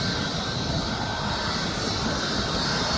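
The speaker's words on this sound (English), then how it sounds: "And then we got the TUI flight then." A TUI airliner flies over Birmingham Airport, a steady, even engine roar that holds at moderate level throughout the short stretch with no talk.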